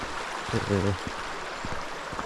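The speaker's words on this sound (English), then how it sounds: "So apparently this is the River Ashop." The River Ashop flowing beneath a footbridge on a woodland walk near Snake Pass, draining toward Ladybower; a soft, steady rush of moving water, with a brief voice-like sound near the start.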